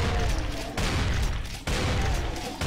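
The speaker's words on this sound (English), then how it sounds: "the shotgun's really doing some great work here" Loud shotgun blasts in Brutal Doom, a dense roaring burst that cuts out sharply twice and slams back in, layered with continuous game chaos and no talking.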